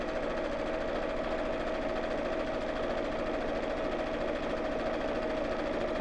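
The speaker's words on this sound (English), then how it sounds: "I'm just using a guide on the throat plate just to make sure I'm sewing the straight line." A sewing machine stitches a straight seam on an insulated lunch bag, running with a steady, even hum and rapid needle rhythm throughout, fairly quiet and uninterrupted.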